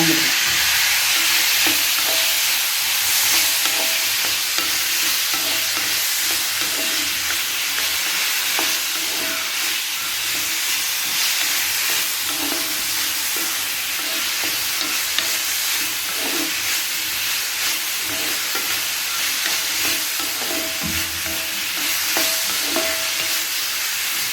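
Chopped chow chow (chayote) frying in a pan, giving off a long, steady hiss and sizzle with faint, occasional stirring scrapes.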